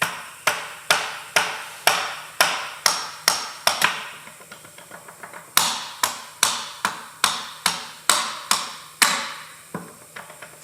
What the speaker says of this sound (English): can you grab a small mallet,